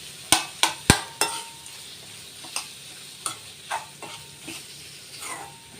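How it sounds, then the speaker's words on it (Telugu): Boiled potatoes mashed and stirred into potato masala for dosa in a pan, with several sharp spoon knocks against the pan followed by softer scraping strokes over a faint sizzle. "వేసేసి ఇది అంతా బాగా ఇలా మెత్తగా మెదిపేసుకోవాలన్నమాట"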